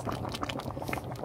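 A Korean seafood curry with potatoes and baby octopus bubbles in a pot, giving a soft, dense burble of popping bubbles, fairly quiet and continuous with no voices.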